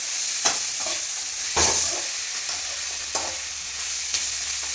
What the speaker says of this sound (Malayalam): ഉള്ളി ചെറുതായിട്ടൊന്ന് വാടി വന്നപ്പോൾ നമ്മൾ തേങ്ങാക്കൊത്തും കുറച്ച് ഒരു ശകലം ഇഞ്ചി ഇട്ട് കൊടുക്കുകയാണ്. എന്നിട്ട് നല്ലതുപോലെ ഒന്ന് ഇളക്കി കൊടുക്കണം.